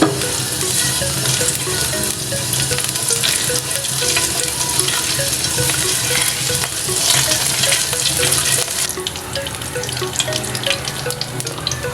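Cumin seeds and curry leaves fry in hot oil in a pan, giving a steady, loud, bright sizzle with crackles and spatters throughout, with no voices.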